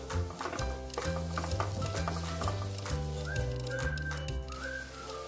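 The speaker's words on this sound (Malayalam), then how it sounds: "ഇതിനെ നമുക്ക് നന്നായിട്ട് വഴറ്റി കൊടുക്കാം." Aloe vera sautéing in a pan, a continuous close sizzle with busy stirring and scraping of a utensil throughout.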